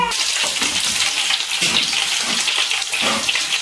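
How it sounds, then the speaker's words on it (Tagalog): Chicken frying in hot oil, a steady dense sizzle and crackle that runs without a break, loud and close, with no talk over it. "tapos na tayong mag-prito sa ating manok"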